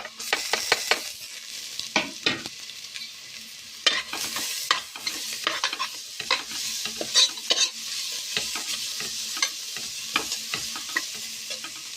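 Grated carrot frying in a pan for ghee rice with green gravy, stirred with repeated scraping strokes over a steady close sizzle, with no talking.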